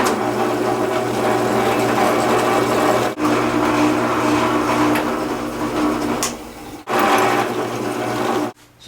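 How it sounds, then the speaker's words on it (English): Drill press running at 2500 RPM, boring oiled pilot holes in steel held in a vise, a steady high mechanical whine with grinding texture, continuous and fairly loud, cutting out abruptly in brief pauses between passes. "I set the drill speed at 2500 RPM, and you want to make sure everything's locked in, and add a little bit of oil for lubrication"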